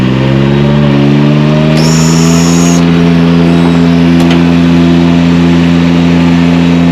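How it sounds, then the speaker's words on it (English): A Palazzani Spimerica TSJ-82 lift engine runs loud and steady with a constant low hum, while the outriggers raise with a brief high hydraulic whine partway through. "I'm going to go ahead and raise my outriggers up."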